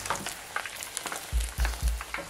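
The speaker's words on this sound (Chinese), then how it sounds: "当看到鸡翅炸到这一种金黄色时" Chicken wings deep-frying a second time in hot oil for Thai sweet chili wings, giving a steady crackling sizzle with a few louder low thumps and stirs near the end.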